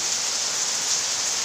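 Heavy rain pours down as a dense, even hiss, loud and unbroken, with no voices.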